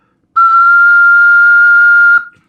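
An ocarina sounds a high F blown with low breath pressure, a single pure, steady whistle-like tone held for nearly two seconds, loud and close, starting cleanly and ending with a brief tail.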